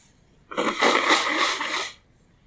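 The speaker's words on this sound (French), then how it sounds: "Attends, là faut que j'éternue, on va se moucher." A single loud, close sneeze bursts out in a broadband rush lasting about a second and a half, breaking off into quiet.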